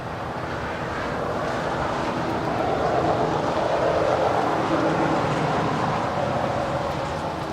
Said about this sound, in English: As the Air New Zealand Dreamliner now makes her way to the gates of Tom Bradley here on the south side.